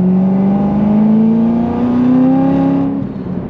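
Car accelerating hard on stock tires with traction control on, a loud, near engine note rising steadily in pitch for about three seconds, then cutting off abruptly.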